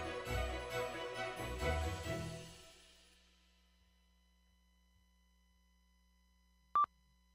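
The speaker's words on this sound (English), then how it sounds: "Well, that's my single beep." One short electronic beep sounds alone near the end, clean and fairly loud, after fading music and a stretch of near silence.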